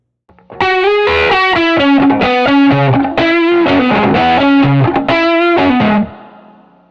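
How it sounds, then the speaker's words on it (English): An electric guitar through a Fuzz Face pedal plays a short melodic riff of sustained, heavily fuzzed, distorted notes, loud and up close, ending in a decaying ring. "The Fuzz Face, let's hear that on its own."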